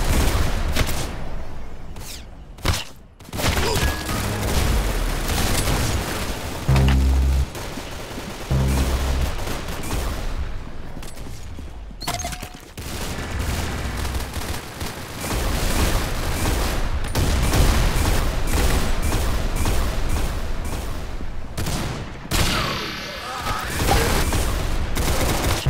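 Dense, loud gunfire, like being shot at: rapid bursts and volleys of shots with heavy booms, almost continuous, with only a few brief gaps.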